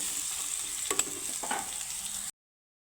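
Ridge gourd fries in a pan under a steady sizzle while a spatula stirs it with two or three scraping knocks, and the sound then cuts off to silence.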